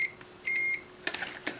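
A multimeter continuity tester gives one short, clear electronic beep, followed by faint clicks and taps from the probe leads touching, with no talking.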